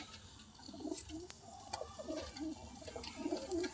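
Caged pigeons, plain and crested, coo softly at night, a steady run of low rounded coos repeating every half second or so, fairly close over faint background hiss.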